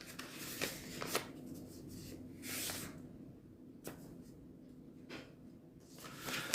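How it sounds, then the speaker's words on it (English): A single sheet of scratch paper being folded and creased by hand, with soft crinkling rustles and a few sharper crease snaps spread across several seconds, close and fairly quiet, no talking. "Could be scratch paper. Just one, make sure it has one blank side. And fold it like this."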